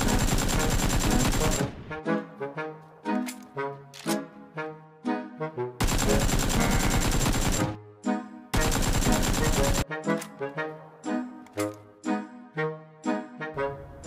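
Gunfire from AKM and AWM guns in the PUBG Mobile video game: long, dense automatic bursts alternating with sharp, spaced single shots, loud and close, with no talking.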